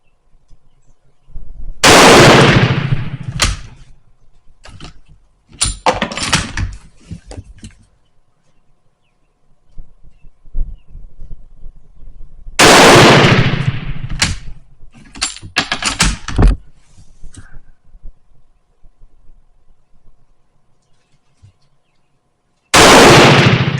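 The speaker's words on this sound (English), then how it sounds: "You just can't believe how well this gun shoots." Turkish Mauser M38 bolt-action rifle fired outdoors, three loud, sharp shots spaced far apart, each with a long echoing decay, plus some fainter clicks and handling noises between them.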